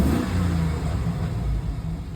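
A pickup truck engine idles steadily after an alternator replacement, a smooth low rumble with an even hum and no squeal, running alone without voices.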